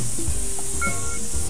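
Spray paint can hissing in the Bad Kid In School Simulator video game, a loud continuous airy spray running almost the whole time with faint game tones beneath, cutting off abruptly at the end.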